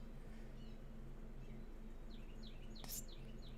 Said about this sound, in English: Are you listening to the birds?